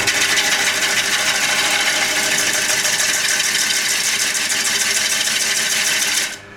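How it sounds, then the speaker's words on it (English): A skew gouge cutting the outside of a wooden platter on a lathe, a continuous loud, close hissing and buzzing scrape with a rapid fine rhythm that stops abruptly at the end. "I have a skew gouge, like a skew chisel but a gouge, and I'm going to skew the outside clean."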